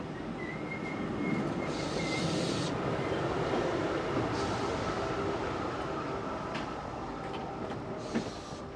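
An RER commuter train at the Saint-Rémy-lès-Chevreuse terminus rumbles steadily throughout, a broad low rolling drone with occasional brief hissing bursts, heard from fairly close with no talking.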